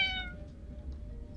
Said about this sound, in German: So, eine Katze, was hast du hier?